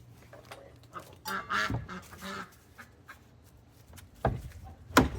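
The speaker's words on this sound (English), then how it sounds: "Duckies." Ducks quacking at a farmyard on a goat farm, several rough nasal calls scattered across the stretch, a few louder close ones near the end over quiet background.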